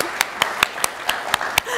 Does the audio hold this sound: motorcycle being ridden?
no